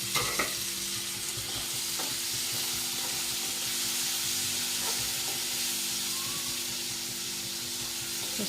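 Tomato goes into a hot tempering with curry leaves and fries with a continuous hiss and sizzle. A few light clinks and stirring sounds rise over it, with a low hum underneath and no talking.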